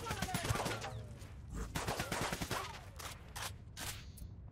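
Gunfire in the video game Ghost Recon Wildlands rings out as a rapid series of sharp shots and short bursts, crisp and close at first, then spaced into several separate cracks with echoing tails.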